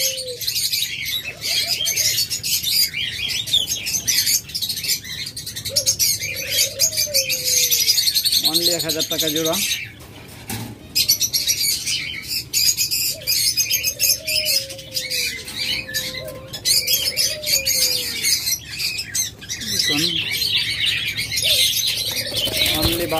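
Caged pet lovebirds, budgerigars, doves and cockatiels at a bird sale chirp constantly in a dense high chorus, with low dove coos and brief wing flutters, while someone talks over them.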